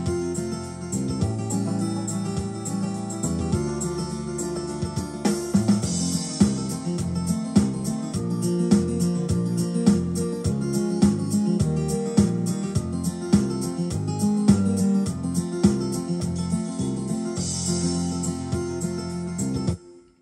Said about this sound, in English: So I'm just going to play a few chord progressions.